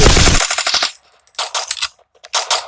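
Rapid automatic gunfire from the mobile shooter Forward Assault on Android, loud dense bursts at the start, then shorter separated volleys with brief gaps between them.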